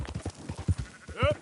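In a video game, sheep being herded let out a single close bleat over a rapid rhythm of hoofbeats or footsteps.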